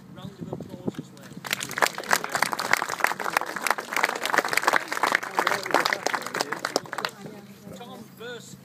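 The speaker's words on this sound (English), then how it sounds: "So I think Simon needs a round of applause as well." An audience at a show hut opening breaks into a burst of applause, dense clapping swelling for several seconds then tapering off, with a speaking voice before and after.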